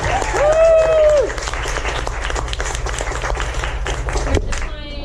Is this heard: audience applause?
yes